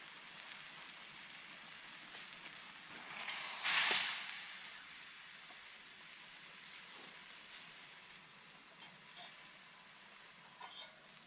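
Spam frying in a pan, a steady crackling sizzle that swells into a louder, hissing burst for a moment before settling back to a low, even spatter. No voices are heard.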